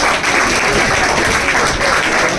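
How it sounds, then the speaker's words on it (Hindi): An audience at a ceremony honoring selected coaching-class students claps loudly in a dense, continuous burst that stays close and even throughout. "ताली हो जाए"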